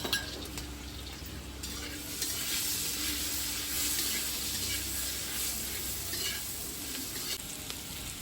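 A steady sizzle of salt and turmeric frying in a pan for soybean pulao, with occasional stirring scrapes, continuous and close, no talking.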